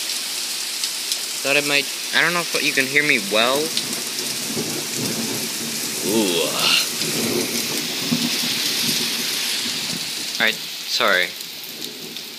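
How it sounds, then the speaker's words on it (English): A hailstorm with thunder rages outside, giving a constant loud wash of pelting rain or hail. A person talks briefly over it in spurts. "See, that's that hail."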